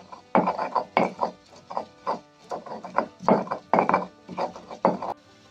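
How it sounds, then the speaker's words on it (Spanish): Garlic and onion, salted, being ground for salsa in a stone molcajete: rhythmic, fairly loud rubbing and knocking strokes in bursts of roughly two to three per second, close by, with no talking. "Ahora ya voy a empezar a moler la salsita. Empiezo con el ajo y la cebolla."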